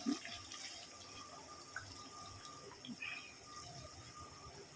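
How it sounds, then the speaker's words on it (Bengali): Hot water being poured into a cooking pot, a steady soft watery rush with faint splashes and a few small knocks, fairly quiet and continuous. "এবার আমি গরম জল দিয়ে দেবো আগেই দেখো গরম জল আগেই ফুটিয়ে রেখেছিলাম"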